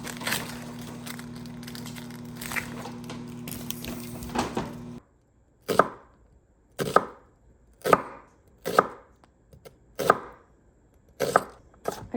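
A knife slices through a red onion on a cutting board in a home kitchen, about eight crisp, evenly spaced cuts, each a sharp crunch with a short tail, heard close after some kitchen background noise and a humming appliance.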